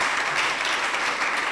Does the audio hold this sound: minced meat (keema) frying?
no